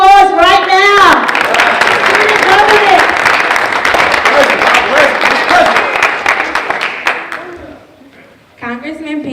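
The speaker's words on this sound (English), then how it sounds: "Give her a round of applause right now." Audience clapping for the hostess at a youth empowerment forum. Steady applause runs under a speaking voice, then fades out before talk resumes.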